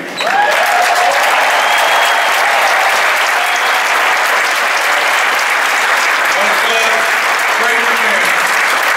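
Steady, dense audience applause fills a halftime tribute at a basketball arena honoring Coach Katie, sustained and loud for the full stretch with crowd noise and scattered cheers underneath.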